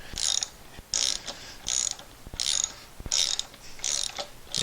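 Ratchet clicking on a Honda Civic rear shock absorber nut, six bursts of quick metallic pawl clicks in a steady back-and-forth rhythm, close and clear with no talking.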